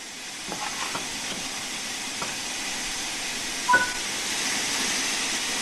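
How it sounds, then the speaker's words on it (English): Steam hissing from the cylinder cocks of a steam locomotive in Train Sim World 5, a steady broad hiss running throughout with a few faint clanks and one brief knock midway. "When the locomotive has been left standing, you'll want to open the cylinder cocks or remove any water."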